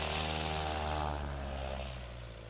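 A STOL competition airplane at Patriot Airpark in Pocola, Oklahoma, its propeller engine droning loud and close with a steady harmonic buzz, then easing slightly as it pulls away.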